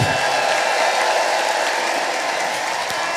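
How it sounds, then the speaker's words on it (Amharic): A large crowd at a church healing service applauding and ululating together, a dense, loud, continuous roar of clapping and high trilling voices from start to finish. "አረ እልልታ ጭብጨባ ያንሳል"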